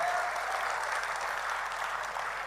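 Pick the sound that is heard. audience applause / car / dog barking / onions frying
audience applause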